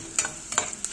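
Garlic stir-frying in a pan for petchay with tofu gives a sizzle with a few quick scraping stirs, close and clear, with no talking.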